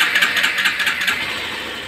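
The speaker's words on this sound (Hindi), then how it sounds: "टाइम लगता है थोड़ा पर बाइक स्टार्ट हो गया।" A motorcycle engine cranks over with a fast pulsing rhythm, loud and close, then settles into a steadier running hum; no one speaks over it.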